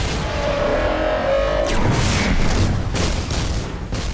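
A grenade detonates in the sci-fi shooter Destiny, a deep rumbling boom that rolls out amid steady game noise with a few sharper bursts following.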